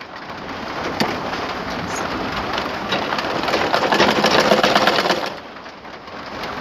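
A sewing machine runs steadily while stitching folded cloth for a Quran cover, a close, dense rapid whir that grows slightly louder before stopping near the end; nobody speaks.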